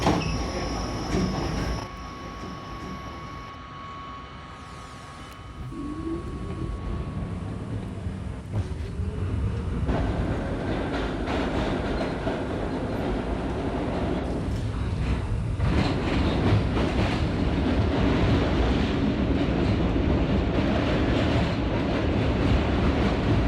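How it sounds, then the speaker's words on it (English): An R38 subway car on the A train line rumbles steadily along the rails, with wheel squeal and clattering track noise building into a loud, continuous roar after a quieter start. "This is a Birchlands bound A train."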